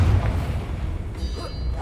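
A Confringo blasting spell explodes in Hogwarts Legacy, a heavy low boom at the start that rolls off into a rumbling tail, with game ambience underneath.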